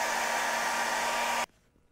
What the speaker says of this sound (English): I'm going to hit this with a hairdryer and dry this before I start working on the other side